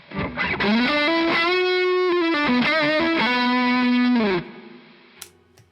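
An electric guitar through an overdrive pedal and compressor plays sustained, heavily distorted notes and bends, loud and alone, then cuts out to quiet hiss.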